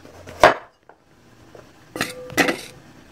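A knife slicing papaya at a slant into roughly two-inch pieces for tinola, heard as a few sharp cutting knocks against a board, with a quiet gap between the first cut and two closer strokes near the end.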